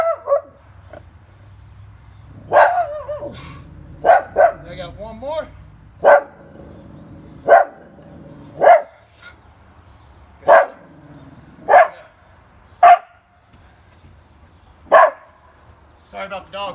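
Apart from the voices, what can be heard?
dog barking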